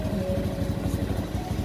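A Honda Beat FI scooter engine idling roughly with a misfire and hagok, a close, steady low putter with rhythmic uneven pulses.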